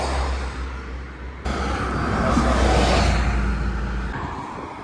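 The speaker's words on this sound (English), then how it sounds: "Okay, well the bus just drove by me." A bus drives past on a road, a broad rushing roar that swells to a peak in the middle and fades away, with steady low engine rumble throughout and no talking.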